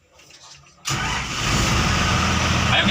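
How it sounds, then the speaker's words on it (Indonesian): Komatsu WA180 wheel loader diesel engine cranks to life after a quiet moment, then settles into a loud, steady rumbling idle close by. "Kita hidupkan unitnya terlebih dahulu."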